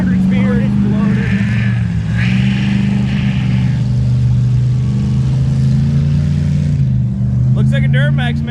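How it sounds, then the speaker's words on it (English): A Duramax diesel truck mud bogging roars with a loud, sustained engine drone that surges and holds steady at close range, with brief voices near the end. "Looks like a Duramax makes a pretty good mud bogger too, huh? That's power."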